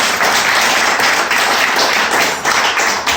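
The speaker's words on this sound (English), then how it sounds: "Give these people a big round of applause" A crowd applauds loudly and steadily at a tribute event for a teacher and coach, with dense, close, continuous clapping and no talking.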